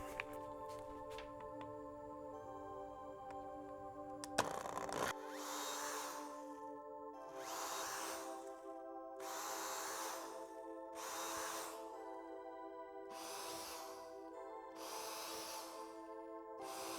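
A power drill bores holes in an arcade cabinet under construction, with about six evenly spaced whirring bursts over a constant background hum and no talking.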